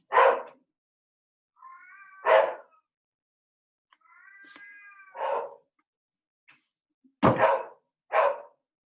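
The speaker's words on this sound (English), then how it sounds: "Oh, here goes my animals. So we're going to have to put up with my animals." Pet cats and dogs in a home make a string of separate meows and short barks with quiet gaps between them, close and fairly clear, with no speech over them.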